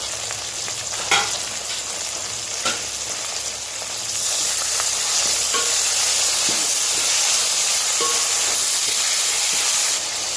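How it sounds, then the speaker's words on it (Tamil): Mint leaves and coriander are sautéed in a hot pan for prawn biryani, giving a steady close sizzle that swells louder partway through, with occasional soft stirring knocks. "நெக்ஸ்ட்டு நம்ம எடுத்து வச்சுருந்த புதினா இலை சேர்த்துக்கலாம். அதையும் சேர்த்து நல்லா வதக்கிக்கலாம்."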